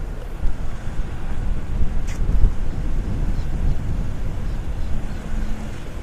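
Strong wind roars across a lake with whitecaps at a boat ramp, a loud continuous rumbling buffet against the microphone with faint water wash beneath, no talk.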